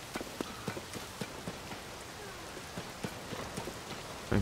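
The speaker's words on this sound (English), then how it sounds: "Oh, it's raining." Rain falling in Zelda: Tears of the Kingdom, a steady soft hiss of drops with scattered pattering taps and thuds, moderately quiet and continuous with no one speaking.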